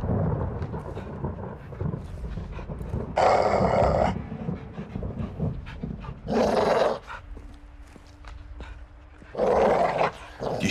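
A dog in Call of Duty Modern Warfare 2 (2022) growls and pants in three rough bursts, loud and close, separated by quieter stretches of low ambient game sound.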